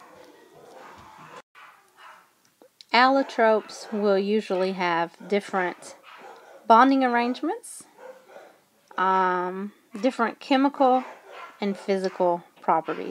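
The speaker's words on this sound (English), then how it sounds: "Sorry about the dogs in the background." Dogs bark in the background now and then behind a lesson on allotropes, faint and distant under steady close speech.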